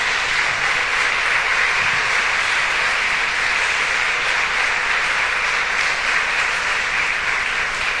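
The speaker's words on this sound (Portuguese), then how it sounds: "Quantos podem dizer amém e dar um aplauso bem forte ao Senhor?" A church congregation applauding loudly, a thick, sustained roar of many hands clapping together at an even level throughout, with no speech over it.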